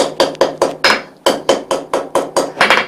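A hammer strikes hot metal on an anvil to set the forge weld of a butt-welded ring, about a dozen sharp ringing blows in a quick, fairly even rhythm, loud and close.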